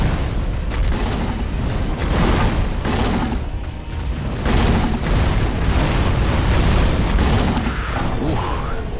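Firecrackers exploding in the video game Sekiro: Shadows Die Twice, a dense run of loud booming bursts and crackling pops layered over continuous combat noise, sustained throughout with no pause.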